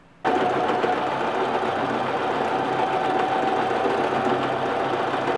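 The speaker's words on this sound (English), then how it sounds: "I'm going to sew this on." A sewing machine runs continuously while stitching a bolero top, a close, steady mechanical whir with no pauses, starting abruptly and without any talking.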